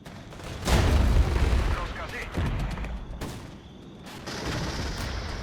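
Rocket strikes in the strategy game Regiments, a run of heavy rumbling booms and crackling blasts rolling over one another, loud and dense, with a voice talking over the barrage.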